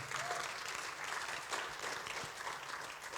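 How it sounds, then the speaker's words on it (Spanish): Steady applause from a church congregation fills the space, a continuous patter of many hands clapping at moderate volume throughout. "Denle un aplauso al Señor por su palabra"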